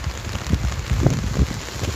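Rain falls on a street in Berat, Albania, with steady patter and scattered drops splashing nearby on the surface. It is moderately loud and continuous, with no voices.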